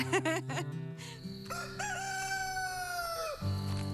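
A rooster crows loudly nearby, a full drawn-out call preceded by a few short clucking notes.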